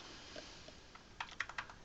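Keystrokes on a computer keyboard as a URI is typed, a few scattered taps early then a quick burst of distinct clicks near the end, close and fairly quiet.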